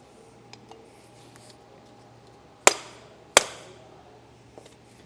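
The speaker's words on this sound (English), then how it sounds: "I will hammer on my screwdriver" Two sharp, loud metallic hammer strikes on a screwdriver driving a double lip grease seal into a 3,500-lb trailer axle hub, with faint small taps before and after over quiet background hum.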